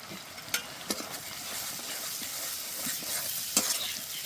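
Soybean curry with chopped capsicum and green chili is stir-fried in a pan, making a continuous hissing sizzle with a few sharp spatula knocks and scrapes scattered through it.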